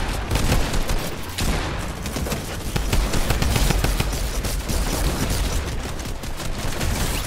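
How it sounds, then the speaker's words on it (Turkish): Dense, continuous gunfire from a machine gun in Fortnite, loud and close, with bursts overlapping into a steady roar and no voices. "Mitralyoz şov yapalım lan."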